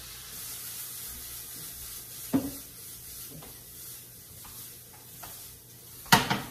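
Shrimp frying in a pan for tequila shrimp tacos, a steady soft sizzle with occasional louder scraping stirs and a sharp clatter near the end, close by with no talking.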